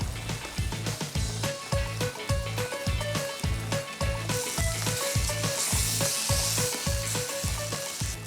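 Crab cooks with moringa leaves and shrimp paste in coconut milk, sizzling and bubbling steadily up close, with a constant rhythmic mechanical thumping underneath throughout, no talking.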